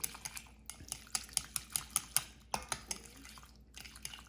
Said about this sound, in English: I'm gonna stir this up through the soup before I add everything else